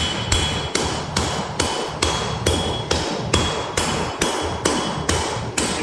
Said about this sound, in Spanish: Siempre golpear con el martillo en esta posición